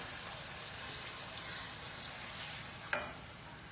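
Finger millet poori sizzles in hot oil as oil is spooned over the top, making a soft, steady frying hiss with a couple of faint clinks near the end.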